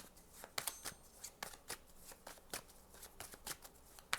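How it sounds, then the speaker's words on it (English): Tarot cards are shuffled by hand in a quiet room, giving a series of crisp riffling bursts and soft flicks in an uneven rhythm, close and faint. "Let's get some tarot cards."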